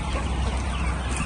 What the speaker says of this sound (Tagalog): Grabe yung manukan nila.